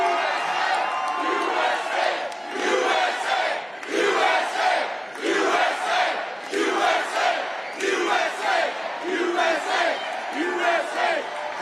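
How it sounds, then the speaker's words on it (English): A large crowd at a Trump rally in Green Bay roars and cheers continuously, swelling in repeated rhythmic waves like a chant, loud and close throughout. "Wow, what a nice crowd this is."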